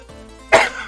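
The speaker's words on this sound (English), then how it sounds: "Pardon me with the coughing." A single sharp cough bursts out near the mic after a brief quiet moment, loud and short.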